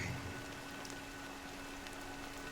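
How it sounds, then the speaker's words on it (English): Rain falls in a video game scene as a steady soft hiss of drops over a constant low hum, quiet and even throughout with no voices. "But it's still raining."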